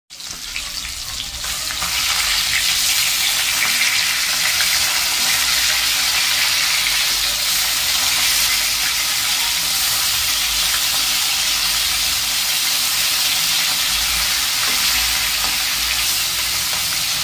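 Rui fish frying in a wok, a loud, unbroken hiss and crackle of hot oil that swells in within the first two seconds and then holds steady and close.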